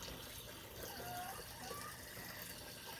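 Water runs steadily from a tap feeding a homemade hydroponics setup, a continuous broadband rush that stays even and moderately loud for the whole stretch.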